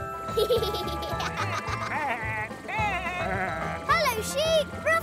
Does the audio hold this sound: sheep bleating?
yes